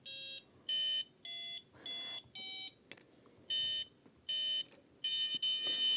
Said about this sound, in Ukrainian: цей звук видає не планшет, цей звук видає робот